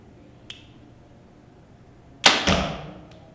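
Hoyt Defiant 30 compound bow at 74 pounds shooting an arrow: a faint click, then a sharp release thump with a short decaying twang and a quiet follow-up knock.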